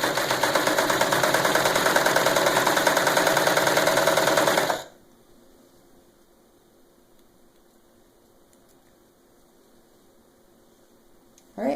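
A serger sewing machine serges the edge of a fabric pouch, a loud, close, rapid mechanical whir that runs for about five seconds and then stops, leaving quiet room tone.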